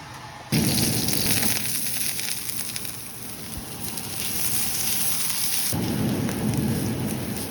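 An egg frying in a pan before bitter gourd goes in, a broad rain-like hiss that jumps louder after half a second, eases slightly in the middle, then rises again and holds steady.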